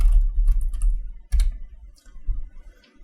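Keys clatter on a computer keyboard close to the mic in quick, uneven bursts. Short pauses split the bursts, and no one speaks.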